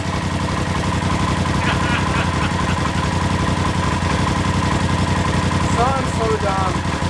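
A rebuilt Polaris RZR Turbo engine runs steadily, a loud continuous rumble that fills the whole clip, with faint squeaks and chirps riding over it near the end.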